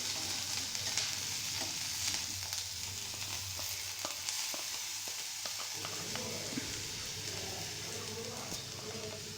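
Ground chilli and garlic paste sauté with onion in a pan, giving a low steady sizzle with frequent ladle taps and scrapes, quiet and close.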